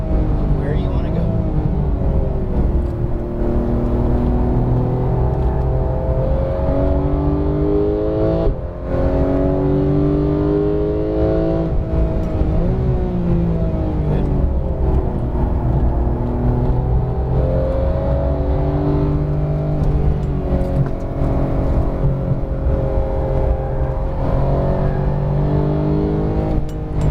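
A Porsche 911 GT3 of the 991 generation accelerates around a race track at a high-performance driving session. Its engine pitch climbs repeatedly through the gears as rising wails, loud and continuous, with a voice speaking over it.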